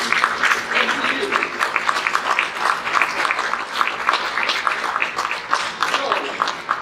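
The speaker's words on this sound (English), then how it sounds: "let's give a big round of applause to our coaches, to our donors, and to you" A gathered crowd at a swim team scoreboard dedication gives a round of applause for coaches and donors, dense clapping with voices mingled in, steady and fairly loud for several seconds.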